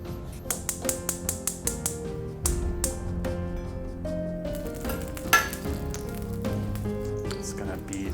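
Several crisp ticks and taps come first, then a frying pan for searing spiced bay scallops sizzles softly and steadily beneath a low background hum.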